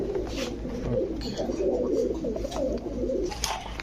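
Pigeons for sale, kept together, coo in low soft throaty calls that overlap steadily, with a busy background of murmuring and faint clatter, close and continuous.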